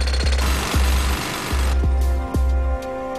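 A jackhammer pounds rock while carving a mountain into a monument, sounding in loud bursts of rapid hammering separated by short pauses, close and alone.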